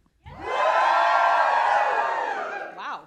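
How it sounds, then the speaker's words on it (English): A live podcast audience lets out one big spontaneous cheer, a loud sustained roar of many voices that swells quickly, holds for about two seconds and fades with a few trailing whoops. "How about just like a big spontaneous cheer?"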